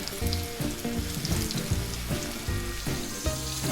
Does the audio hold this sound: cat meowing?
no